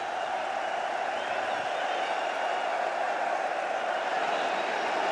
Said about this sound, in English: you can hear what the home crowd think of that.